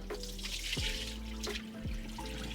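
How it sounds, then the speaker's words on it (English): Water runs from a tap into a bowl while sushi rice is rinsed, a steady close splashing and trickling with a few brief clinks, and no talk. "Start by just rinsing this out with water."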